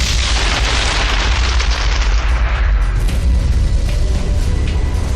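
A massive asteroid impact explosion, the kind that buried half the Earth in fire and debris 65 million years ago, renders as a loud, sustained roaring boom with heavy low rumble and crackling debris throughout.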